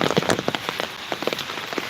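Heavy rain mixed with wind pours down on a waterlogged spinach field, a dense, steady patter of drops drumming on surfaces close by, with no voices.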